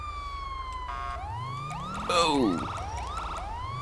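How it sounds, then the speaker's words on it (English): A police car siren in the video game GTA V wails in repeating rising sweeps, loud and close, with a brief voice exclamation in the middle. "I'll turn the siren on."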